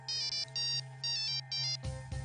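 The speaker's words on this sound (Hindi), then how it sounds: "करुणेश फोन कर रहा है।" A mobile phone ringtone plays a repeating electronic melody in short bursts, fairly close and clear, then cuts off into a brief rustle.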